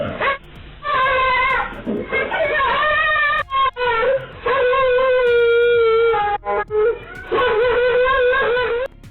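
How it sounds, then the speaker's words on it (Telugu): A dog yelps and howls loudly as a leopard attacks it, a string of close, high, wavering cries with brief breaks between them. "కుక్క గట్టిగా అరిచేసరికి చిరుతపులి వెనుతిరిగి వెళ్లిపోయింది"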